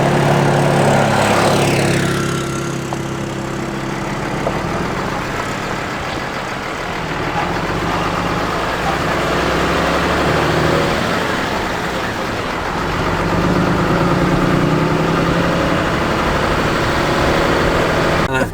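A vehicle engine drones loudly and continuously while driving, with a steady rumble and slight swells in intensity, broken only by faint, occasional speech.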